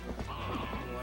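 Horse hooves clop in quick rhythm in the video game Zelda Twilight Princess, close and fairly loud over a busy game soundscape with a whinny-like tone.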